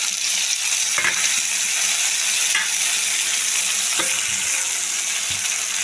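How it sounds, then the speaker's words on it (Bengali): Mustard paste going into a pan of tilapia curry, giving a steady close sizzle and frying hiss with a few soft stirring scrapes and clinks, no voices. "এবার দিয়ে দেবো সর্ষে বাটা"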